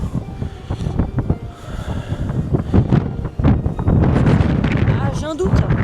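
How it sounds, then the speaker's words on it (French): Strong wind buffets the microphone on the Pacific Ocean shore at Erimo, Hokkaido, a loud continuous rumbling roar that swells and gusts throughout, with a person's voice exclaiming over it. "c'est magnifique, même si il y a beaucoup de vent"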